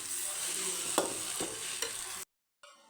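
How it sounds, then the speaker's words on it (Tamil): Thick kurma gravy stirred in a hot pan, a low bubbling sizzle with a few distinct scraping strokes of the spoon, then an abrupt cut to silence and a faint return. "கிளறி விட்டுருவோம்"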